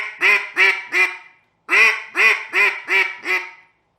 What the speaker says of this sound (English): Just make sure that first quack needs to be a little bit more drawn out than your remaining quacks.